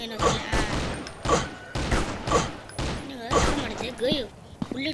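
Bursts of gunfire ring out in a match of the Strike Ops shooting video game. Several repeated volleys of shots come at fairly regular intervals, moderately loud, while players talk over the action.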